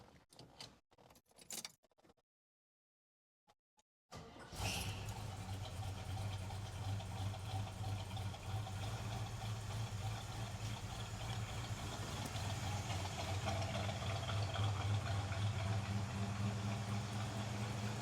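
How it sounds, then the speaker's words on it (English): A Chevrolet El Camino EFI engine, just after crankshaft pulley repair work, fires up after a few clicks and a silent pause, then settles into a steady, loud, close idle with a low rumble. "let's fire it up and see what happens. Hopefully it'll just fire up and idle smooth"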